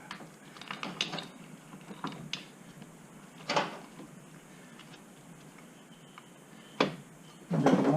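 Metal part sliding onto the rear axle of a Kawasaki Ninja H2 during a service: soft scraping under light clicks and metallic taps, with a few sharper clinks close by and a louder clatter at the end.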